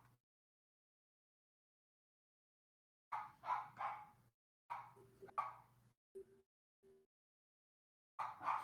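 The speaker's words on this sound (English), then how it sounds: "Or am I hearing the same dogs over and over again?" Dogs bark in a video game, in several short clustered bursts separated by silence, fairly close and loud with no talk over them.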